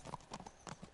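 A fast horse wearing military horseshoes clip-clops along in the Kingdom Come Deliverance video game, with several quick, evenly paced hoof strikes at moderate loudness over a soft background.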